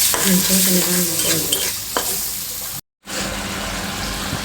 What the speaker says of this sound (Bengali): সেই তেলে পেঁয়াজগুলো একটা ভালো করে ভালো করে দিয়েছি